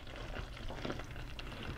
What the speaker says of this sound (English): Just let the bubbles start to come down a little bit.